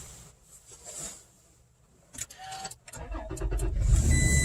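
A Toyota Tacoma truck with a key fob, heard from inside the cab, gives a few faint clicks and shuffles, then the engine cranks and settles into a close, steady low rumble.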